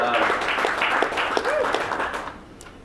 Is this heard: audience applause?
yes